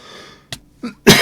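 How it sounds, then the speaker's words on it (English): A person coughs three times, with short gaps between: first a sharp burst, then a softer cough, then a longer, louder, raspy cough at the end, following a brief stretch of faint breathy noise. "Let me cough a little bit"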